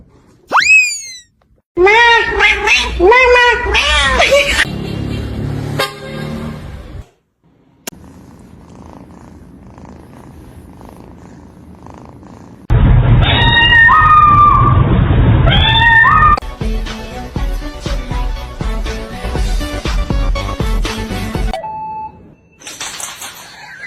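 A cat stuck in a gap in the floor makes strained, meowing and purring cries in bursts, loud and close, broken by quiet stretches and some electronic boing-like effects.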